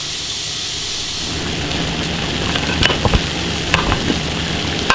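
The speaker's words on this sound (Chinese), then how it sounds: "牛肉压好了，土豆也煮好了，要把气泡完才能揭盖锅盖子啊" A pressure cooker holding beef and potatoes vents steam in a loud, steady roaring hiss, with a few sharp clicks and knocks near the end.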